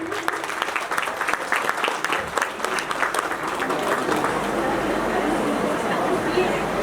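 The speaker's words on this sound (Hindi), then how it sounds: "जोरदार तालियां प्लीज" A crowd at a women's day awards event applauds heartily as a trophy is presented, many hands clapping in a loud, steady burst that softens slightly later while chatter and voices murmur beneath it.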